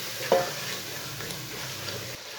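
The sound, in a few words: chicken and spices frying in a pot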